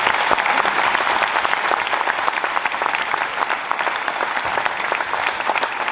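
An audience at an event applauds a management committee, dense, sustained clapping from a large crowd filling the room at steady loudness throughout.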